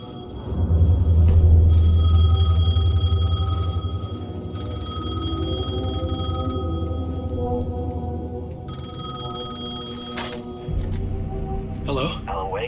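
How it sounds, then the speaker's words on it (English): A telephone rings in the video game Alan Wake 2, a steady electronic ring with sustained tonal lines heard over low, droning game ambience throughout. "phone was ringing. Somehow I knew the call was for me."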